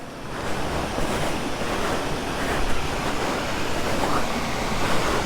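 Rushing water from a waterfall at a roadside swimming spot on the road to Baguio, a steady broadband roar heard close with wind buffeting the microphone throughout and no voices.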